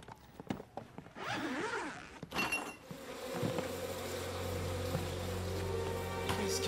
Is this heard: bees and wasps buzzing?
yes